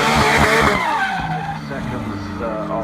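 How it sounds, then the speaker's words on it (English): A McLaren P1 LM race car roars past at a hillclimb event, loud and close with a quick surge and fading pitch, while a voice talks over it. "This makes some noise. The McLaren P1 LM"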